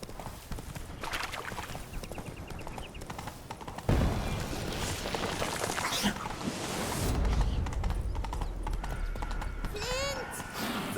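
Roach, a horse in The Witcher 3: Blood and Wine, gallops with rapid rhythmic hoofbeats and a whinny near the end, while a voice speaks over it.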